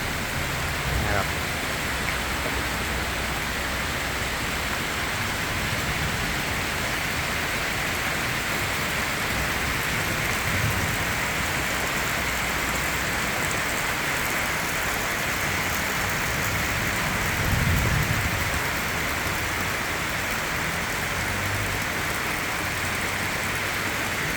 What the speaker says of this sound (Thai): ฝนกำลังมากแล้ว ช่วงนี้นะครับ